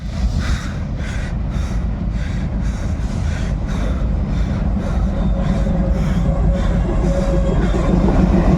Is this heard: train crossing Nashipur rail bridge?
yes